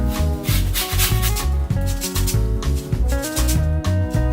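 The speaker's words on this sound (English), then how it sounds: "I'm gonna grate the garlic." Garlic cloves are grated for a stuffed pumpkin and chicken roast, heard as quick, rhythmic rasping strokes over a tonal background.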